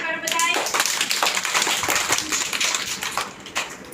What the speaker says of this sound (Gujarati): તાળી પાડો બધાય.